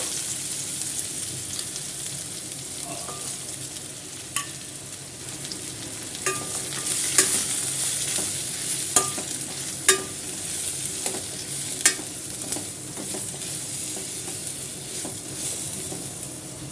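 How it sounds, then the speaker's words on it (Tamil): Onions and garlic sizzle steadily in hot oil for Andhra kara chutney, with a constant frying hiss broken by sharp clicks of a spoon stirring the pan. "அதே எண்ணெயிலே இப்போ நம்ம வெங்காயத்தை நல்லா வதக்கிக்கலாம்."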